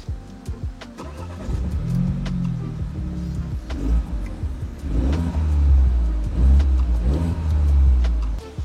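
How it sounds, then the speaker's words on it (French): The four-cylinder engine of a 2021 Morgan Plus Four cranks and fires up after a push-button start, then settles into a steady idle with a few revs rising and falling, close by. "Allez, désormais, procédons au démarrage de ce 4 cylindres. Contact et le bouton Start."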